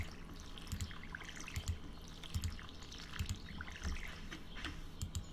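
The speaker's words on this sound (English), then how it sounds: "I'm watering all this" Crops being watered with a watering can in Stardew Valley, as repeated soft splashing pours arrive in a steady rhythm. Faint dripping and trickling sounds run between the pours at a low, close volume.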